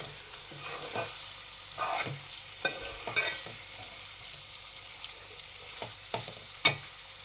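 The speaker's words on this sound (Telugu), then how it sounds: "తర్వాత తరిగిన కొత్తిమీర వేసి దీన్ని ఒకసారి ఇలాగా కలిపేసుకుందాం." Chicken tikka and chopped coriander being stirred in a hot frying pan, a steady sizzle under irregular scraping strokes and a few sharp clinks of the spoon against the pan, close and fairly quiet.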